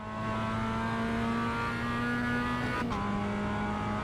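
Race car engine holding a steady high-pitched drone through a fast lap on track, with a brief sharp dip and shift near the end as the revs change, loud and continuous with no talk.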